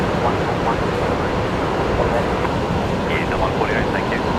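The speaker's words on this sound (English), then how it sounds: "Singapore rolling. The A350 900 heading home to Changi." A Singapore Airlines Airbus A350-900 rolls for takeoff from Brisbane Airport, heard as a continuous broad jet roar with wind-like rushing. Someone talks over it throughout.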